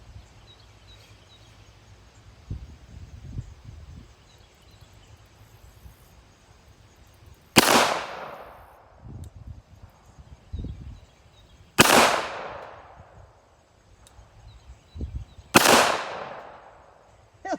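A Kimber Eclipse Target II pistol fires three sharp, loud shots at targets, a few seconds apart, with faint clatter between them.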